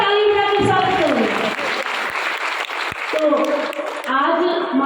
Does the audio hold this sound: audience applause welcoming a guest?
yes